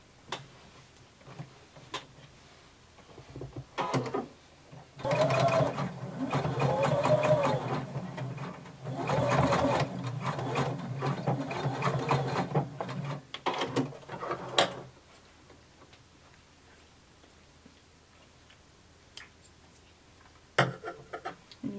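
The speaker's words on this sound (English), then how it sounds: "And you're going to sew 5 eighths of an inch seam allowance." A sewing machine runs a seam with a 5/8-inch allowance for Simplicity pattern 1283, with several steady whirring stitching runs separated by pauses and short clicks, close and moderately loud, with no talk.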